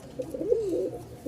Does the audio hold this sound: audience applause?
no